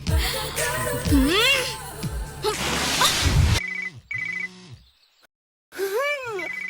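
A phone rings in repeated bursts with short gaps, following a stretch of voices and background music.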